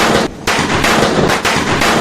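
Ola padakkam firecrackers going off in quick succession for Diwali, loud close cracks that blur into a dense, rattling burst with a couple of brief gaps between volleys.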